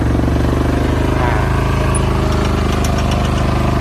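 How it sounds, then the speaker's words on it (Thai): A small diesel engine of an old Japanese Hanix H05 mini excavator runs steadily with a throbbing, rumbling idle that rises slightly, loud and close, with no talking. "เอาเร่งเครื่องหน่อยเลย"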